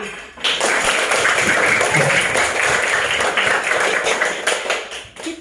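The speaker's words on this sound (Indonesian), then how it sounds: "tepuk tangan untuk semua" A fourth-grade elementary classroom claps together, a dense, steady patter of many hands that starts abruptly after a brief pause and holds evenly for about five seconds before stopping.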